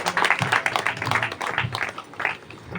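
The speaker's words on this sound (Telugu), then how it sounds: "అందరూ చప్పట్లతో చెప్పండి." A church congregation claps together at an anniversary celebration, a dense burst of applause lasting a few seconds and fading out, with faint voices mixed in.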